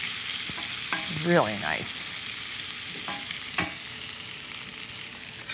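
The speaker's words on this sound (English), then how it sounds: "I'm gonna add the onions back to the pan" Onions frying in a pan for a potato frittata make a soft continuous sizzle with occasional stirring scrapes and clinks, while a voice briefly speaks over it.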